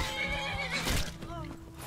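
A donkey in the video game Enderal brays loudly and close, a strained, wavering call lasting nearly two seconds with hoof clops under it.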